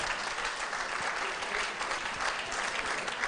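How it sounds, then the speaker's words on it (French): An audience at a live music performance claps steadily throughout, a dense, even wash of applause with no voices over it. "Applaudissez pour vous-même,"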